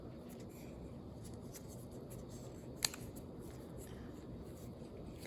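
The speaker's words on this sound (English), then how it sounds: "run my screwdriver around here and try to slide it over to one side" A screwdriver scrapes faintly around the seal of a Bobcat S185 skid-steer lift cylinder during a rebuild, a soft, steady scratching with one brief sharp click partway through.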